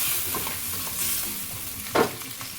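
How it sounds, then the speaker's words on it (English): Seafood for instant noodles fries in a hot pan while being stirred, a continuous close sizzle with scraping movements and a louder clatter near the end, no speech. "So add in the seafood. Mix it all together."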